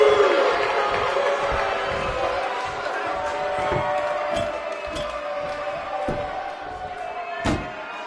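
Arena crowd in the WWE 2K19 wrestling game roars and cheers steadily throughout a sold-out match, with sharp thuds and slams of wrestlers hitting the mat cutting through the dense crowd noise, while a commentator talks over it.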